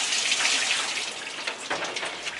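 Aquarium filter bio balls are rinsed under running water, a steady close splashing hiss with small irregular spatters, fairly quiet and alone.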